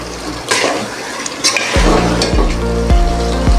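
Palak gosht, spinach and mutton, frying in a pan, a loud steady sizzle with bubbling and a few sharp scrapes and stirs of the ladle against the metal.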